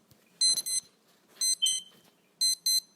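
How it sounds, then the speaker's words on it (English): An alarm goes off with loud, clear electronic beeps in short paired bursts, repeating three times over a quiet background with no voices. "sorry for that alarm going off"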